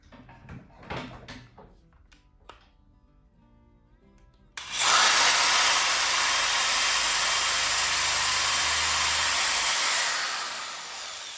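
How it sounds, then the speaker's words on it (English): After a few faint knocks, a power drill whines loudly and steadily for about six seconds while drilling into a wall, then winds down. "we're just going to look where I marked and drill there"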